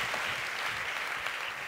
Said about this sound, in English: Amy, round of applause.